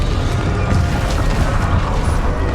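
A Confringo fire spell blasts in Hogwarts Legacy, a loud, dense burst of explosive rumble and crackle that fills the whole moment without letup.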